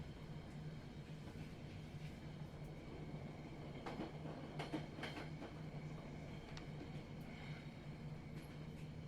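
A video-game train runs on its rails with a steady low rumble and hum, faint rattles and clacks rising briefly midway, no voices.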